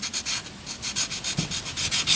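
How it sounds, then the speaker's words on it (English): Light sanding with 400 grit sandpaper on a generator head gasket surface: a steady rhythmic rubbing of short back-and-forth strokes, close and fairly quiet, with no talking. "This is 400 grit sandpaper. I just want to get that little bit of stuff right there off."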